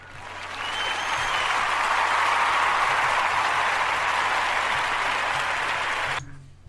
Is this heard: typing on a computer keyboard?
no